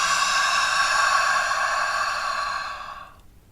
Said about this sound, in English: practicing that you are misting a window or misting your sunglasses in order to clean them and make that sound